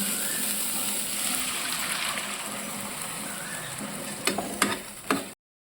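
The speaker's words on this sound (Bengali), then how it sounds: "ভালো করে নাড়াচাড়া করে এইবারে জলটা দিয়ে দিচ্ছি।" Water goes into a pan of fig curry as it is stirred, a steady soft hiss and gentle bubbling, followed near the end by a few sharper scrapes and splashes before it cuts off.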